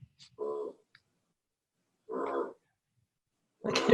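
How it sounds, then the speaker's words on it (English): A dog gives three short, gruff barks, spaced a second or more apart and separated by near silence, with each burst brief and fairly close. "I can hear your dog."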